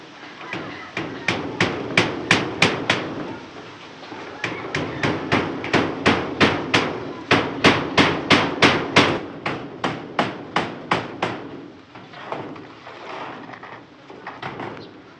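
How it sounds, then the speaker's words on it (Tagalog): A hammer drives nails into old, hole-riddled corrugated metal roofing sheets with a steady run of sharp, ringing strikes. Several quick series are separated by short pauses, and the blows fade toward the end. "mapabaon mo yung pako"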